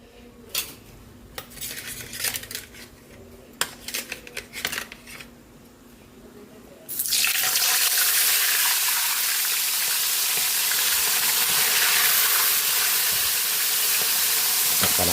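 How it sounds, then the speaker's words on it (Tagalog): Fish frying in hot oil for sweet and sour fish: utensils clink and clatter for several seconds, then a loud, steady sizzle bursts in and hisses on without a break. "Magpiprito na po tayo ng ating isda"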